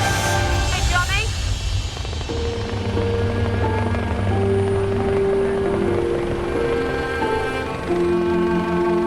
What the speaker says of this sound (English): make room for the police helicopter that is carrying Stuart, the other injured biker